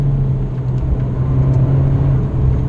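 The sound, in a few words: Abarth 595 Competizione 1.4 litre exhaust roaring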